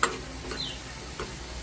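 Chopped onions with salt fry in a pan while being stirred, giving a steady low sizzle with a few soft scrapes and clicks of the spoon. No voices are heard.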